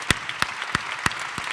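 A conference audience gives brief, sparse applause, five or so distinct claps ringing out over roughly a second and a half with gaps between them.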